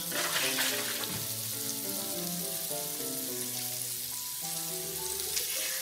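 Onions and liver fry in a pan with a soft continuous sizzle, joined by a steady hum of musical tones underneath, with no talking.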